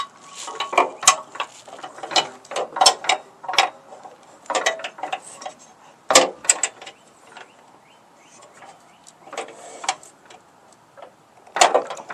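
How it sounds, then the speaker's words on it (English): A ratchet works a bolt loose on a riding mower deck: bursts of quick metallic clicking with pauses in between, close and crisp, no voices. "So we're going to take that bolt out."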